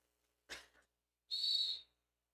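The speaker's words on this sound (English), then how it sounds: "There's the whistle." A referee's whistle starts a roller derby jam in a bout between Wasatch Midnight Terror and Northern Arizona: a short, faint first toot, then one longer, clear shrill blast.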